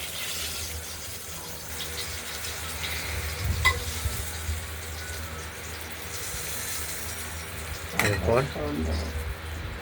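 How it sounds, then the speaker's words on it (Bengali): Bay leaf, dried red chilli, cumin and nigella seeds sizzle in hot oil as a tempering for a light tilapia fish curry. A steady frying hiss runs throughout, with sharper crackling bursts near the middle and toward the end. "তেজপাতা শুকনো লঙ্কা জিরে কালো জিরে দিয়ে ফোড়ন দেওয়া হবে"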